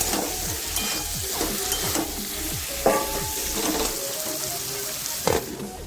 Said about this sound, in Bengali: এরপর এখানে কেটে রাখা মাশরুমটা অ্যাড করে দিচ্ছি।